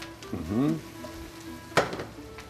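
Onion frying in a pan for a hot chicken breast dish, a soft steady sizzle with a brief scraping stir, a sharp clack of a utensil, and a voice talking briefly.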